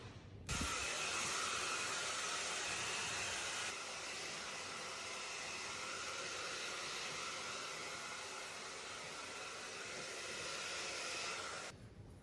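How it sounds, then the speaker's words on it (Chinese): A hair dryer blows hair dry in a salon, giving a steady, even whooshing roar that runs for about twelve seconds with a slight drop in strength partway through. "我现在把它自然的吹干，再来修饰"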